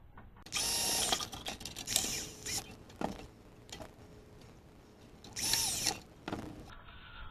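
A power drill drives two screws into firestop tin during bench assembly for a Case IH 9250 tractor: two loud high-pitched whirring bursts several seconds apart, with quieter clicks and handling noise between.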